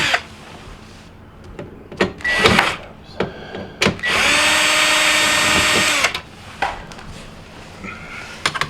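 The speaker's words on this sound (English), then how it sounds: "So I'm going to start taking that off." A power drill backs out panel screws on a GE dishwasher: several short whirring bursts, then one sustained high whine lasting about two seconds, with clicks and handling knocks between, close and loud.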